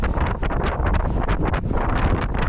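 Strong wind batters the microphone on a mountain bike ride along Southwest Ridge near Las Vegas, a loud close rumble with quick gusty surges throughout and no talk.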